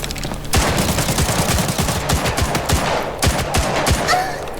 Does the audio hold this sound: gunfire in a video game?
yes